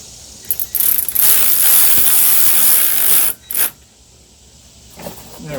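A Ryobi P344 cordless ratchet whirring and clicking close up in a sustained burst of about three seconds, then a brief second burst and a faint final tap.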